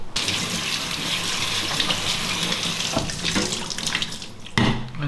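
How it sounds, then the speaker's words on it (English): Potato slices rinsed in a colander under a running kitchen tap, a steady loud stream of water for about five seconds with small clatters and shifts near the end. "And then we need to give them a good rinse."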